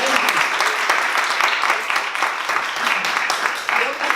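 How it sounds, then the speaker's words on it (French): An audience applauds steadily and fairly loudly, with dense clapping that continues throughout and some voices mixed in. "Moi, je dis applaudissez."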